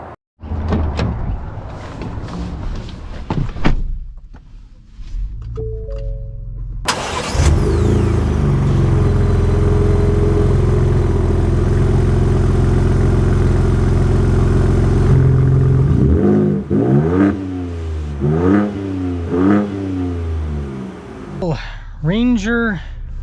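A mid-sized off-road pickup, a Ford Ranger Raptor or Chevrolet Colorado ZR2 Bison, roars to life and holds a loud steady rev for several seconds, with door thumps before it and a voice talking after it.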